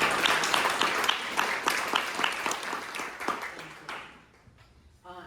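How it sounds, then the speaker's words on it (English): A seated audience applauds at a speaker series event on a clean water plan, with brisk clapping that thins and fades out, leaving a quieter room at the end. "So just a big round of applause."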